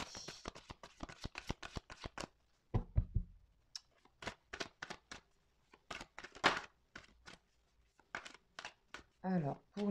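Oracle cards are shuffled for a tarot reading, giving repeated crisp riffling and tapping bursts in an irregular rhythm, close and fairly quiet, with someone talking over much of it.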